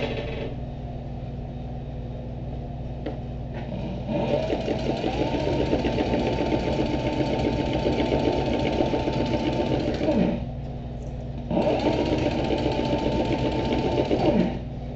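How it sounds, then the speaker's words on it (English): A sewing machine double-stitches a leather pouch, its steady motor hum running in two long bursts with a short pause between, close and fairly loud. "we're going to double stitch this"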